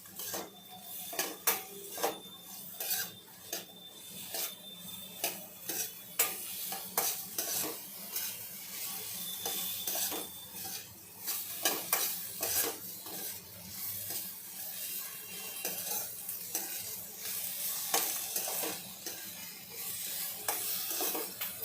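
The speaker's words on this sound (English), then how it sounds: "इस सभी को अच्छे से सौते कर लेना है" Red bell pepper and other vegetables being sautéed in a pan, heard as steady stirring with spoon scrapes and clinks against the pan over a soft sizzle, close and continuous without talk.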